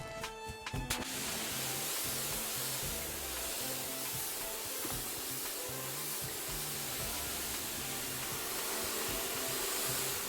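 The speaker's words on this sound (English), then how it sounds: "And then we need the Clean Wind pressure cleaner." A Clean Wind pressure cleaner in a sports-gym renovation video game sprays in a loud, steady hiss that starts after a brief clatter and holds unbroken to the end.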